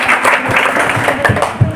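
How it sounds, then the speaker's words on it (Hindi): An audience at a business meeting breaks into applause, a dense, continuous wash of clapping from many hands, loud and close throughout. "एक बार अपने लिए जोरदार ताली बजाइए।"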